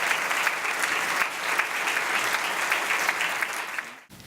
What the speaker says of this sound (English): So a round of applause for our friends from Squawkapella.